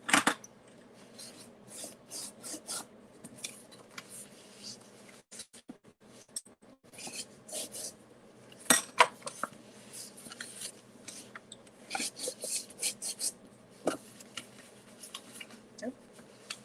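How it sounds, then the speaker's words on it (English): A foam folder burnishing score lines on card while making an Easter card, giving soft, close rasping rubs and scratchy strokes in short irregular bursts with brief taps between them. "Now let's go ahead and burnish on these score lines."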